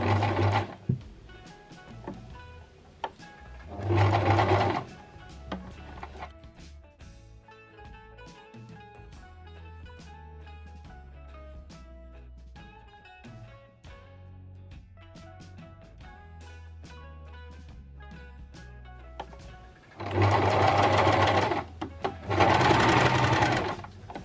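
A sewing machine stitches a curved seam, with loud bursts of motor whir and needle clatter at the start and end, and quieter intermittent mechanical ticking and stop-start stitching in between.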